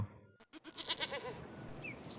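Goats bleat close by: a short run of nasal, wavering calls in quick succession within a couple of seconds, with a quiet outdoor background and no talk.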